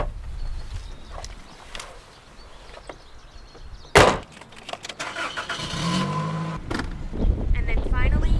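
Someone gets into a car: shuffling and movement, then a sharp door thump, followed by rustling and rising mechanical vehicle noise, fairly close with a faint background.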